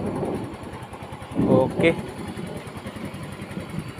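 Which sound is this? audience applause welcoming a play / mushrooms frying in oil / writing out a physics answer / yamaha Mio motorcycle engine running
yamaha Mio motorcycle engine running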